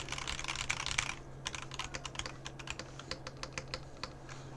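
A new mechanical keyboard fitted with Sakura switches gives a fast flurry of close, crisp keystrokes, then slower, separate clacks spaced out in an uneven rhythm, with no talking.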